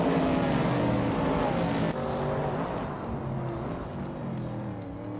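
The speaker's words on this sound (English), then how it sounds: "driving a 1969 Chevrolet Camaro, which is known for its classic muscle car appeal" A 1969 Chevrolet Camaro muscle car races in a video game, its engine a loud, continuous roar that shifts pitch as it gears and passes, with a slight drop partway through and no voices.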